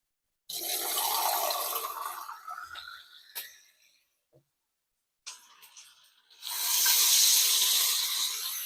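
A small amount of water is poured into a pot of dinuguan as it cooks, with a close hissing splash in two separate pours and a short quiet gap between them.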